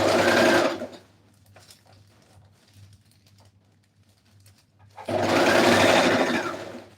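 A sewing machine stitches a shirt seam slowly around a curve, with two loud, close bursts of stitching at the start and end separated by a quiet pause with faint low hum.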